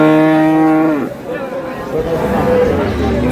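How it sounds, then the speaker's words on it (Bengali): A large cow with her calf moos loudly at a rural cattle market, one long nasal call that drops off, followed by market chatter and voices talking. "বিশাল আকৃতির গাভী বাছুর"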